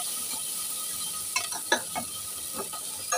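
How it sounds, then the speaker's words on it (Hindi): Masala spices with turmeric and red chilli frying in a pan, a low constant sizzle with a few scraping stirs in the middle. "मसाला अच्छी तरह भून लेंगे"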